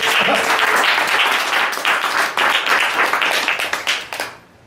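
An audience breaks into loud, close applause at a live show, a dense burst of clapping that stays strong for a few seconds, then thins and fades out quickly.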